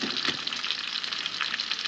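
Steady crackling sizzle of fish frying in hot oil in a pan, close and continuous, with faint stirring touches and no voices.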